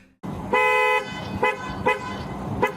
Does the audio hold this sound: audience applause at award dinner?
no